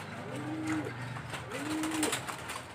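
Pigeons coo outside a racing-pigeon loft, two drawn-out low coos about a second apart, close and clear over a steady outdoor background hum.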